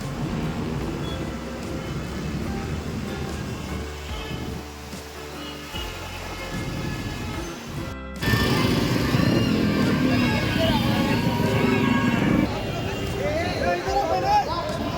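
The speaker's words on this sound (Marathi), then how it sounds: "तर मित्रांनो ट्रॅफिक पाहू शकता" Busy street traffic in Mumbai during the Dahi Handi festival: motorcycles and cars rumble and pass amid crowd babble and voices. The whole scene grows louder partway through.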